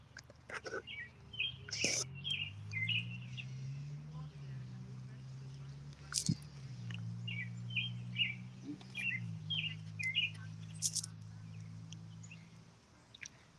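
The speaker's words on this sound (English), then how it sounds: "You'll see the birds." Small birds chirp and tweet repeatedly at close range while feeding on pieces of pita, steady short calls over a low continuous hum and faint background noise.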